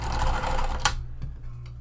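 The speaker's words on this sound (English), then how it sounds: "I'm gonna backstitch at the beginning and the end because it is going to be hidden on this seam here." Sewing machine backstitching a seam on a clear vinyl tote, a brief burst of fast mechanical whirring that stops with a sharp click, followed by a low hum and near silence.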